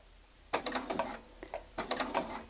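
A sewing machine stitches slowly through kraft-tex at a 3.0 stitch length, close by, in two short bursts of rapid mechanical clatter with a brief pause between them.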